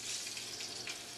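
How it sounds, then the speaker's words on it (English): Scallops hitting hot oil in a saute pan give a bright, steady hiss of frying sizzle, close and continuous throughout with no talking. "They should sizzle when they hit the pan."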